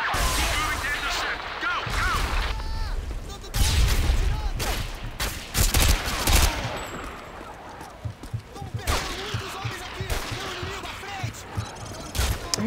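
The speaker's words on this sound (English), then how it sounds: "Taking a heavy fire from the militia here" Heavy militia gunfire in Modern Warfare 2 on PC, set in Russia: dense bursts and single shots crackle at close range across the whole stretch, with loud impacts and voices speaking over the battle.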